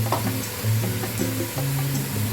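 Cumin and crushed red chili sizzle steadily in hot oil for a beef yakhni pulao, with a constant crackling fry and soft stirring clatter throughout, no voices.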